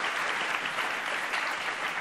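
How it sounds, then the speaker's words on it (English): A room full of people at a civic media panel discussion applauds the speakers, a steady, even wash of clapping throughout with no voices over it. "We get a round of applause."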